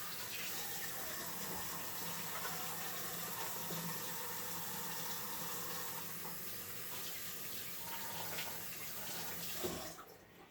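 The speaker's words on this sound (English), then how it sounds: "it's always important to wash your hands after you've handled raw eggs" Hands washed under a running kitchen tap after handling raw eggs, a steady, close rush of water splashing into a sink that runs throughout and cuts off at the end.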